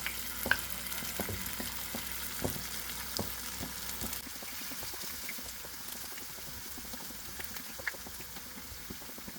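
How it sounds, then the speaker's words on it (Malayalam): Mushrooms deep-fry in hot oil over a high flame for a street-food mushroom masala, giving a steady, fairly quiet sizzle broken by scattered crackles and sharper pops. "ഇനി ബാക്കിയുള്ളതും കൂടെ നമുക്ക് ഇതുപോലെ തന്നെ ഫ്രൈ ചെയ്തെടുക്കാം ഞാൻ ഹൈ ഫ്ലെയിമിൽ വെച്ചിട്ട് കേട്ടോ ഫ്രൈ ചെയ്യണത്"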